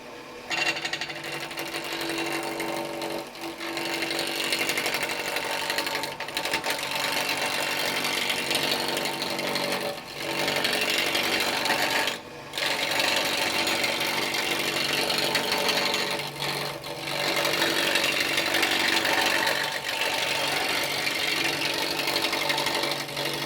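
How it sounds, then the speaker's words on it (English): A roughing out gouge cuts a square baluster blank down to a cylinder on a wood lathe, giving a steady, loud, continuous whirring scrape with a few brief dips as the tool lifts off the spinning wood. "We finished roughing it out with the roughing out gouge"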